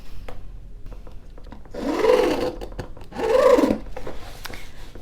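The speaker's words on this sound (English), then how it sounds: "And when I'm stitching it," A sewing machine stitches a seam on a fabric bag in two short bursts of whirring, each about a second long, close and clear with quiet gaps between.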